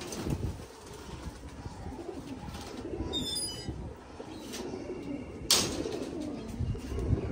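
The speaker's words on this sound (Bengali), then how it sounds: "দেখেন এটা পায়রা" Pigeons in a high-flying pigeon loft, with soft low cooing running through steady background rustle and a brief sharp noise near the end.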